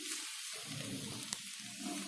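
Vegetable macaroni with tomato sauce and coriander leaves cooking in a pan, a soft steady sizzle with a faint stir or tap, no talking.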